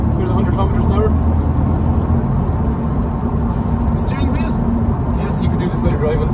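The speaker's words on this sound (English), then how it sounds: "It's a really tubby little engine, 3-cylinder, just pulls along really well." A Honda Civic 1.0 turbo petrol three-cylinder engine accelerates with a steady, low drone and road noise from inside the car, while someone talks over it throughout.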